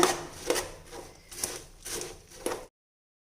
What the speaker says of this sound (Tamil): இப்போ இதை நல்லா கலந்து விட்டுக்கலாங்க